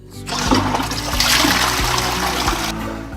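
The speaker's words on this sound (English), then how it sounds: "And the water flows." Water rushes steadily through the new water main of a freshly built two-storey house and pours into an underground pit, a continuous hissing, splashing flow with a low rumble, heard alone.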